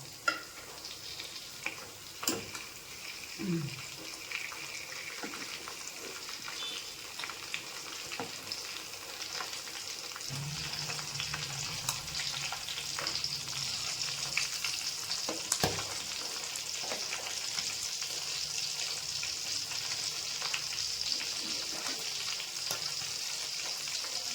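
Korameenu (murrel) fish fries in a pan, giving a steady, close broadband sizzle throughout with occasional sharp pops and spatters and a few faint stirring knocks.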